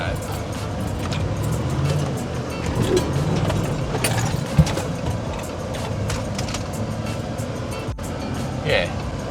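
Toyota 70 series Troop Carrier climbing a rocky shelf on the Old Coach Road in Cape York, its engine and drivetrain rumbling at moderate level with clunks and a sharp knock, under a person talking.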